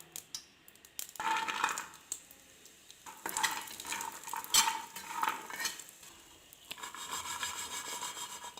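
Walnuts stirred and scraped with a spatula in a pan of desi ghee, giving repeated close rubbing and scraping strokes in bursts with short pauses, no talk.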